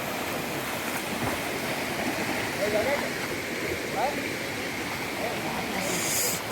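Steady broadband rush of the Ranidahra waterfall in Kawardha, Chhattisgarh, flowing water heard close and continuous for the whole stretch, with faint voices of swimmers in the background.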